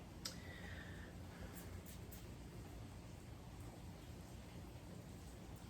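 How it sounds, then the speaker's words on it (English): Steady rain falls outdoors as a continuous broadband hiss, with a few brief clicks near the start and no talking. "Wow, it's raining."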